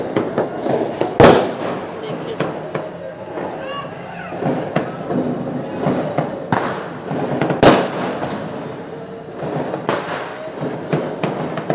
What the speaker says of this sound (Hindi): पटाखे बहुत फूटे हमारे यहाँ।